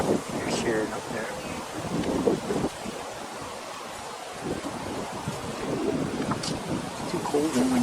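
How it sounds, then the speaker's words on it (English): Cold wind buffets the microphone at a dock in a lakeside park on a sunny day, a steady broadband rush with gusts throughout, with speech faintly present under it. "Too cold and windy today."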